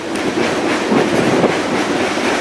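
Freight train rolling steadily, a loud, close, continuous rumble with a rhythmic clickety-clack of wheels over rail joints and no talking.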